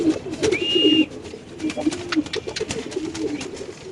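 Lahori fancy pigeons coo in low, soft, throaty bursts close by, joined by scattered bird calls and one brief high whistle.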